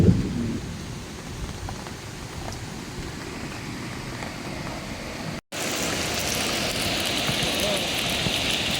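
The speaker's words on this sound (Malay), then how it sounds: "Hujan guys." Steady heavy rain roars close by with a low rumbling of thunder beneath it, briefly cutting out before the downpour resumes, louder and hissier.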